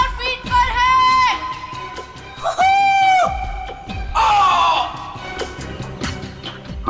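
A man screams loudly in long, sustained bursts, apparently during a skydive at around 5000 feet with wind roaring behind, heard as played back from a recording, the cries separated by brief pauses.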